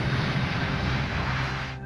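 Passenger airliner engines roar steadily at close range during its takeoff run, a continuous broad loud rumble with a low drone that fades slightly near the end.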